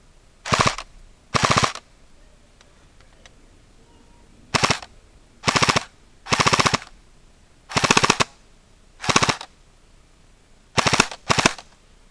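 A D-Boys SCAR-L (Mk16) airsoft rifle fires BBs in nine short bursts of rapid full-auto shots, each lasting a fraction of a second and separated by pauses, loud and close over a quiet background.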